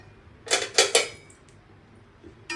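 Sesame and poppy seeds stirred on a tawa give three quick scraping strokes of a utensil on the metal, close and crisp, then a quiet stretch with a faint final scrape.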